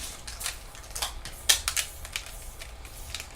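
Rapid, crisp clicks from the buttons of a PlayStation controller, pressed in quick irregular bursts close up, with one sharper snap near the middle and no voices.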